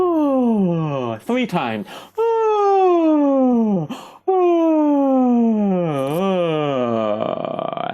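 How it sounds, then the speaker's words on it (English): During a singing warm-up, voices make big vocal yawn sounds: loud sliding moans that swoop downward in pitch, repeated several times in close succession. "let's now do a big yawn sound"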